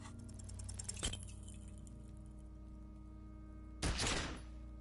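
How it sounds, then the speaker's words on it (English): Two sharp gunshot blasts from the video game Disco Elysium, about three seconds apart, each with a short ringing decay over a soft, steady game backdrop, with no voices. "A plume of smoke erupts from the barrel. Your hand goes numb from the explosion."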